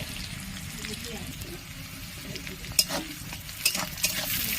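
Potato and soybean chunks fry in a pan with a continuous close sizzle, broken by a few sharp clinks from stirring, while a voice murmurs faintly in the background.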